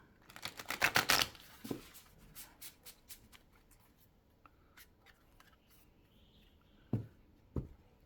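A deck of cards shuffled by hand on a table, with a quick cluster of riffling crackles at the start followed by scattered soft taps and card snaps, near and quiet, with no talking.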